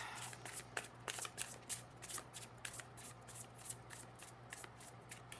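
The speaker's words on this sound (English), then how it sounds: "I'm going to cut the deck. I'll do one more pass, then we'll cut the deck." A tarot deck is shuffled by hand, with repeated soft riffling bursts in a steady rhythm, close and fairly quiet against a low background hum.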